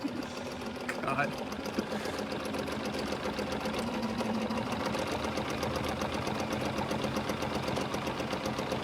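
Sewing machine stitching on mixed media surfaces, a steady rapid mechanical whir and clatter running throughout, with people talking and laughing over it.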